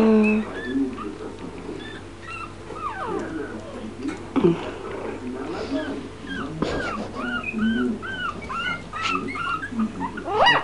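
Four-week-old Brussels Griffon x Jack Russell terrier puppy whimpering in repeated high, thin squeaks and whines, close by, with people talking softly at times.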